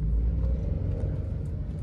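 A VW Polo 1.2 petrol Highline engine revving, heard from inside the car as a loud, steady low rumble that stays dense throughout.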